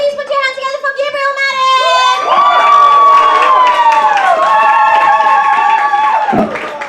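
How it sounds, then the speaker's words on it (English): An audience at a stand-up comedy night in a Hoxton pub venue cheers and applauds as the host introduces the final act, with whoops and a dense crowd roar swelling over the host's voice, loud and close, then fading. "Please put your hands together for Gabriel"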